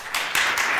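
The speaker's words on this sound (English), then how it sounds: "give him a warm applause" Brief, fairly loud clapping from a seminar audience welcomes a speaker from the Port of Tallinn to the stage at a maritime ITS event. The sound is a dense, continuous burst of applause under a second long.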